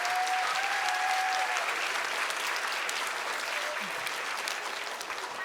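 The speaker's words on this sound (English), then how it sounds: "Please give a nice round of applause to our wonderful Mrs." A school audience applauds steadily after a kindergarten musical, dense sustained clapping filling the hall at an even level and tapering only slightly toward the end.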